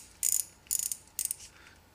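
Drag on a 2008 Abu Garcia Revo S baitcasting bass reel being tightened during a service: three quick bursts of sharp ratcheting clicks, close and crisp, evenly spaced with brief pauses between.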